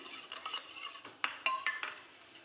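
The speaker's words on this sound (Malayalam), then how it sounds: "നല്ല വണ്ണം ഇളക്കി കൊടുക്കുക" A utensil stirs beaten egg with pepper powder and salt in a bowl, giving light, quiet scraping and a few soft clinks against the side, with no talking.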